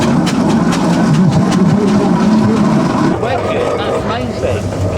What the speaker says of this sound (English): It's very nice to see that Clayton engine, very good.